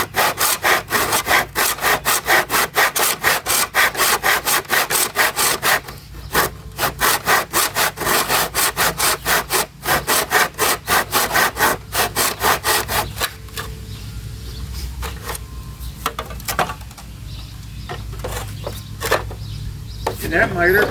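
A hand saw cuts wood in a miter box with fast, steady back-and-forth strokes. The strokes stop briefly, resume, then slow to a few scattered, quieter passes before a final burst of sawing.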